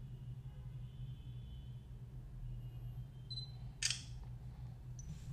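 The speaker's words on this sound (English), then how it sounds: "Let me take this one more shot. Not the fastest shutter, I would say." A Sony Xperia E3 Dual phone camera fires its shutter once, a brief sharp click standing out against a low steady hum in a quiet room.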